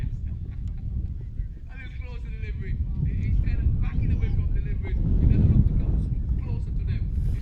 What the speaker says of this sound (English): The bails are ripped away by the wind.